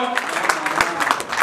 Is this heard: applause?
yes